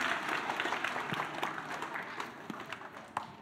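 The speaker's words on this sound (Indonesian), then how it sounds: "tepuk tangan." An audience at an Easter church service claps, a fairly faint spread of steady applause with scattered sharper claps throughout.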